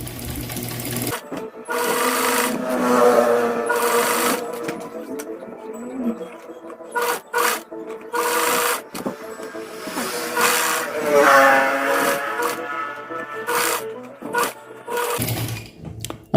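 A sewing machine stitching bias binding around a garment armhole, running in repeated bursts of rapid mechanical chatter separated by short pauses, close and clear.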